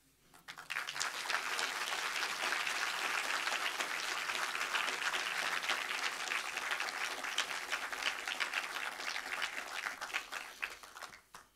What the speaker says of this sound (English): give a big round of applause to everybody I've just mentioned